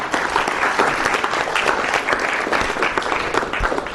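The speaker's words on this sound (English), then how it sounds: "Let's give her a round of applause to Bala for sharing." Audience at a keynote talk applauds steadily, a dense, sustained clatter of many hands clapping together at close range, holding at an even level throughout with no speech over it.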